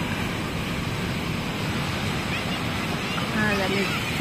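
Rain and gusting wind outdoors in the Philippines, a dense continuous hiss with blustery rumble, steady and fairly close, with faint voices at the end.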